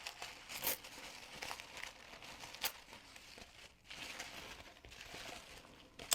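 Plastic wrapping on a Upcrate art-supply subscription box crinkles and rustles as the package is opened, quiet and close, with a few sharper crackles scattered through the handling and no talking.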